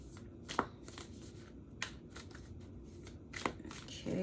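Cards being shuffled close up, with soft riffling bursts and sharper snaps at intervals, ending in a louder flurry.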